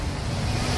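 Pacific Ocean surf on the coast at Real, Quezon, a steady close roar of breaking waves with wind buffeting the microphone throughout.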